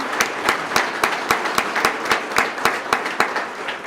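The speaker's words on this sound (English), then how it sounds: "Let's give them both a round of applause." An audience at a police swearing-in and promotion ceremony applauds, with close, rhythmic, evenly spaced claps standing out over a softer bed of clapping from the crowd.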